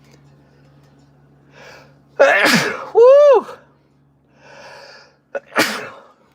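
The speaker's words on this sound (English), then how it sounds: "I can't sneeze, man." A loud sneeze bursts out close by, followed by a rising vocal exclamation and breathy sounds, then another sharp sneeze-like snort.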